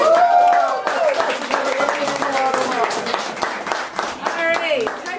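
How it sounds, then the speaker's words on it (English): Audience clapping for children after a kids' puppet performance, steady applause across the whole stretch with voices and tonal sounds mixed in over it. "Let's give the kids a hand."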